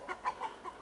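Roosters clucking outdoors in a poultry run, four short clucks heard faintly at an irregular pace, with no talking.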